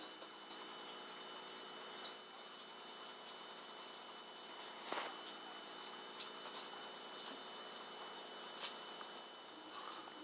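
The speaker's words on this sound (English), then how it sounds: "Top four whistle sounds for dogs." High-pitched dog whistle tones played back through a speaker, a series of thin steady sine-like whistles: one loud opening tone of about a second and a half, then fainter sustained pitches with a brief click midway.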